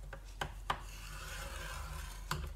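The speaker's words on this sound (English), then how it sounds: "I'm going to score at 1 inch. And I'm going to score at 11 inches." Paper is scored for folding a policy envelope, giving a faint, close scraping drag with a few light taps from the tool.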